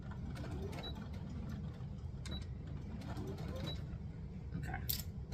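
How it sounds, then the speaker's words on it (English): A sewing machine stitches a bottom piece of fabric with a low, steady mechanical whir and faint creaks and clicks throughout, fairly quiet and close. "we're going to sew this bottom piece right here"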